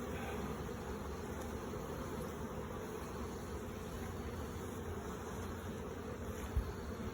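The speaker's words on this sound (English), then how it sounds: "Move slowly, the bees won't get excited." Honeybees swarm around a nucleus hive being installed, producing a dense, continuous buzzing drone that fills the air close by at a moderate, even level.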